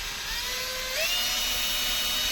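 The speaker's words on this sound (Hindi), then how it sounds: "जैसे कि हम देख सकते हैं कि हम ड्रिलिंग कर रहे हैं" A power drill bores into a Toyota Fortuner during a 360 camera installation, letting out a steady high-pitched whine that climbs slightly in pitch as it bites, loud and close with no talking.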